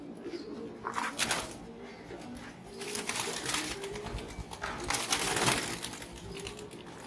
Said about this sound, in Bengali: এগুলো ধরে রাখা যায় না খুবই শক্তিতে ধরে রাখতে হয় ছটফট ছটফট করে